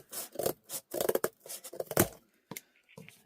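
Corrugated cardboard rubbed down by hand to collapse its ridges for a small Christmas craft: close, dry scratchy rubbing strokes in quick bursts, then a few sharper scrapes and taps near the end, with no voices.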